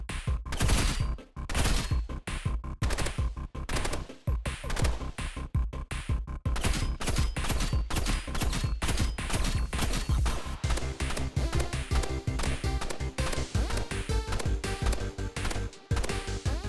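A burst rifle and an assault rifle firing in the Roblox game Rivals: loud, rapid volleys of gunshots, clustered bursts giving way to steadier automatic fire, continuous and close for the whole stretch.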